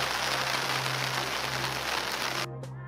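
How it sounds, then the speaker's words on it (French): Light rain falling outdoors near water, a steady soft hiss of drops pattering on surfaces that cuts off abruptly near the end. "Voilà, un petit peu de pluie."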